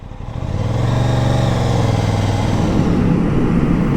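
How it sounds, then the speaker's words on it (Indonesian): An Aprilia RS660 sport motorcycle in commute mode, new with very low mileage, pulls away in first gear with a smooth, steady engine drone that swells and holds loud and close, without talking. "Kalau pakai mode commute gini motornya halus pisan."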